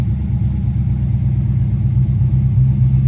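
A Dodge Charger R/T engine fitted with a 270 Comp cam idles on a dyno on its stock tune, giving a steady, loud, close low-frequency rumble with a slightly uneven lope throughout.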